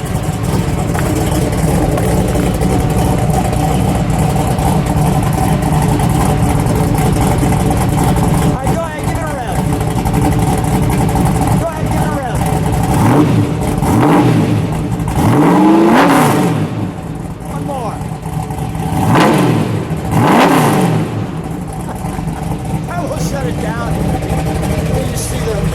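A 1000 HP 1969 Chevrolet Camaro nicknamed Hit Man in Purple idles loud and rough, then blips its engine in several sharp revs that rise and fall, heard up close in an enclosed space.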